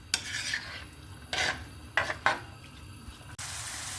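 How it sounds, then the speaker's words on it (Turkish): Onions soften in olive oil with soft sizzling and stirring in a pan, with a few louder scraping bursts from a utensil against the pan. "Soğanımızın iyice yumuşayıp kavrulmasını bekleyeceğiz."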